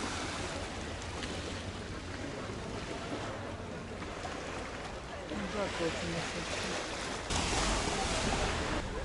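Sea waves wash and hiss steadily in the open air at Damlataş in Alanya, Turkey, with a louder surge of surf toward the end.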